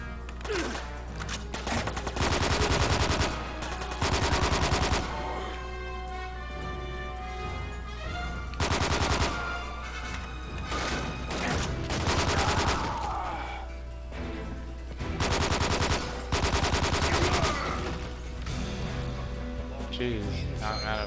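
Gunfire from the video game Quantum of Solace, loud repeated bursts and volleys of automatic shots in several clusters, mixed with game sound effects and a player talking over the action.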